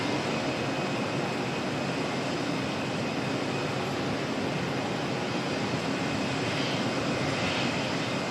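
A Dash 8 turboprop departs for Kerikeri, followed by an Air Chatham Saab turboprop heading to Paraparaumu, at Auckland Airport; a loud, steady engine roar fills the whole stretch, close by and without talk.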